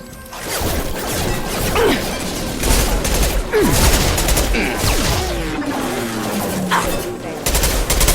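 Sustained gunfire in the game Mass Effect Legendary Edition: rapid bursts of automatic weapon shots and impacts clatter across several seconds, loud and dense, with voices calling out beneath the battle noise.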